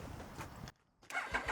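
A motorbike engine cranks over and catches near the microphone, a short burst of starter noise after a brief silence, then rising engine sound.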